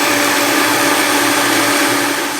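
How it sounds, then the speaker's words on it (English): A Vitamix blender whirs loud and steady, blending organic parsley with lemon in its carafe, a dense, constant roar that holds without a break. "I have a Vitamix, so it really blends it up well."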